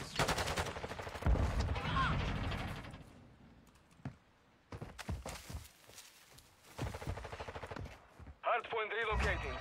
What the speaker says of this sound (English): Shooting guys in the back